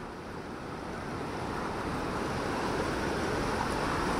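Ocean waves surge and wash near the shore in a steady, loud roar that swells slightly, mixed with wind noise, with no talking.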